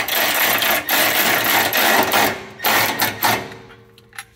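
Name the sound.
tool snugging down M6 skid plate bolts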